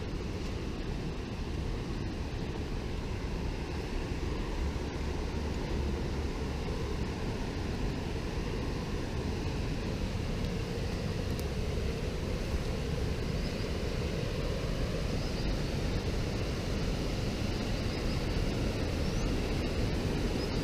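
The River Eden flowing past old mine remnants, a steady broadband rush of water holding even and unbroken for the full length, moderately distant with no voices.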